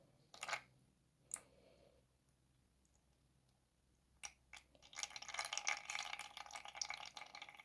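Water poured off floating pepper seeds during seed soaking for seedlings, heard as a few faint drips and clicks followed by a steady, close splashing trickle of liquid draining away.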